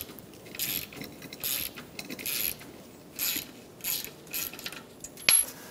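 Ratchet wrench with a 5.5mm socket backing a stud out of an old AC condenser on a 2012-2020 Chevrolet Sonic, a series of short, quiet metallic clicking bursts with brief pauses between them, close up and alone.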